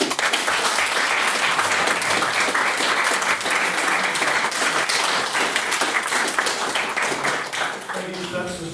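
Sustained, dense applause from a large debate audience, loud and steady throughout before tapering slightly at the end.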